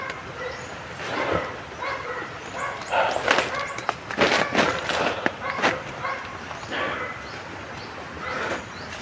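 Stray dogs barking and yipping at a roadside spot, a series of sharp moderately near barks scattered across the stretch, mixed with a person talking.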